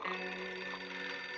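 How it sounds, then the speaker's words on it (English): Telephone ringing in the video game 60 Seconds: a continuous bell-like ring, steady and moderately loud, alone. "The phone's ringing."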